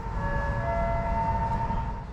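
A KCIC high-speed train at Padalarang station in Indonesia gives a loud, steady rumble with a sustained whining tone on top, with no voices.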